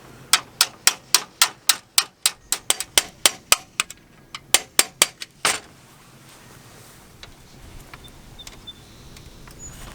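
About twenty sharp metallic hammer blows on a mobile home door ring out in quick, steady succession, close and loud, then stop, leaving faint room noise.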